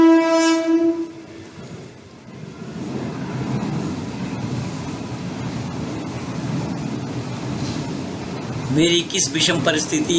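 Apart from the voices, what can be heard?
passing train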